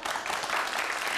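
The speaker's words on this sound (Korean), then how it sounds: "박수까지 받았네요" A short burst of applause from a small studio audience, even and close, with a faint voice mixed in.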